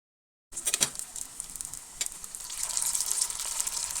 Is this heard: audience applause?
no